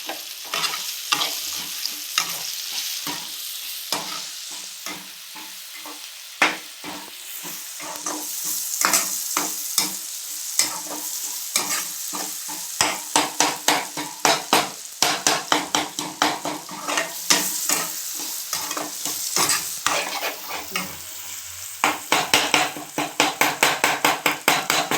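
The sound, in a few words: tomatoes being mashed and stirred while frying in pan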